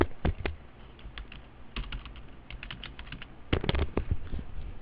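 Close-up typing on a computer keyboard during accounting software data entry: irregular bursts of crisp keystrokes separated by short pauses, with no voices.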